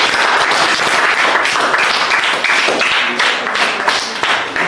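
Dense, continuous applause from a crowd at a school birthday celebration, loud and close, with many hands clapping steadily throughout and no clear voices.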